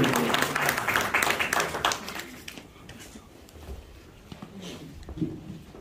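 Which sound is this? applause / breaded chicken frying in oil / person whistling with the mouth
applause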